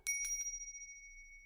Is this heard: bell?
yes